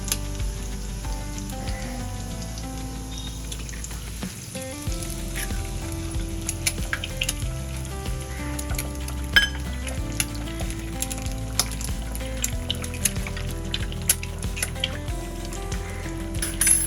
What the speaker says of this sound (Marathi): तेलावर इथे मी लसूण घातलेला आहे. लसूण लालसर झालं आहे. आपण त्यावर अंडी घालूया.